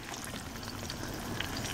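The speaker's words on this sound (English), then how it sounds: "here's the sausage, frying with red sweet peppers." Sausage fries in a pan with red sweet peppers, giving a soft, steady sizzle and crackle with scattered small pops, fairly quiet and close, with no voices over it.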